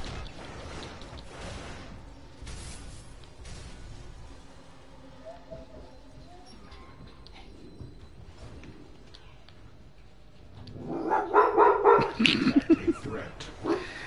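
A dog that gets mad when its owner leaves for work yips and barks in a loud, agitated burst near the end, after a long stretch of quieter room noise and faint movement.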